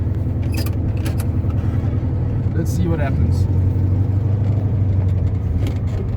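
A 1971 VW Beetle 1300 on a test drive, its engine a low steady rumble throughout with a deeper hum settling in after a few seconds, while someone talks briefly over it.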